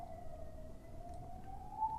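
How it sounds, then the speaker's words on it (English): A siren wails steadily in the distance, its tone rising slightly, faint against quiet background hum. "There's a siren."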